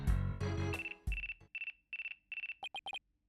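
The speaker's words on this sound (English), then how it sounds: "Looks like I have a phone call." A phone ringtone in Phoenix Wright: Ace Attorney – Dual Destinies on the 3DS: a repeating electronic chirp that comes in short even bursts, following a few louder game sound effects, then ends in three quick clipped tones.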